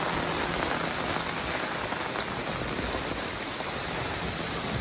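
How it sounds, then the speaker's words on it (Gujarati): Heavy rain falls steadily on the ground and nearby surfaces, making an even, dense hiss that stays loud throughout, with no voices. "મને વરસાદ વધતો જ જાય છે"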